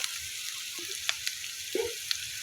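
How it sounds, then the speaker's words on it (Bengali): Chicken pieces frying in a pan with masala, a steady soft sizzle with a few faint stirring clinks and scrapes, no talk. "এখন আমি মাংসগুলো দিয়ে দিলাম তো চিকেনটা লাল লাল করে ভেজে নিব"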